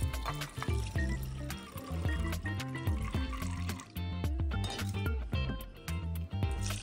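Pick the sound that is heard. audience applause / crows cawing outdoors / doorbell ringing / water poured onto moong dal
water poured onto moong dal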